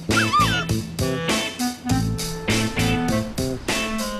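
Several dogs arriving at a dog party bark and yip in quick bursts over upbeat music, close and fairly loud throughout.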